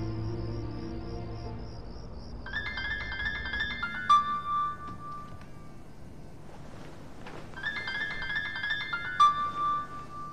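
Mobile phone ringtone for an incoming call, a bright melodic tune playing in two bursts separated by a short pause, clear and moderately loud in a quiet indoor room, no talking.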